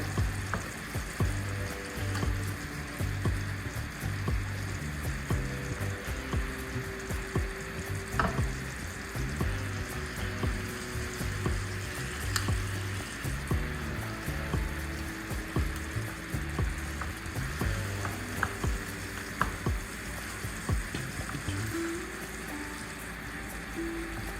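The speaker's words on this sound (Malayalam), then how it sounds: "ഒന്ന് കുക്ക് ചെയ്തെടുക്കാം അപ്പം ഇതാ ഒരു ഭാഗം വെന്ത് വന്നിട്ടുണ്ട് ഇതൊന്നും മറിച്ചിട്ട് കൊടുക്കാം" Fish fries in a pan with a continuous dense sizzle and crackle, steady and close throughout, with occasional light clinks of a utensil.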